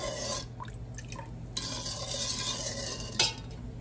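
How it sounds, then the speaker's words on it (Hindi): Chilli pakoras fry in hot oil with a steady soft sizzle and crackle, joined by occasional stirring scrapes and light utensil clinks in a quiet home kitchen. "अभी मैं पकोड़े फ्राई कर रही हूँ मिर्चों वाले।"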